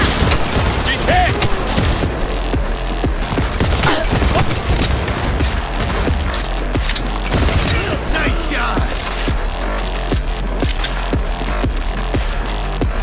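Heavy gunfire erupts in Cyberpunk 2077 during a penthouse shootout, a loud, dense barrage of overlapping automatic shots and impacts that rolls on without pause, with voices faintly mixed beneath.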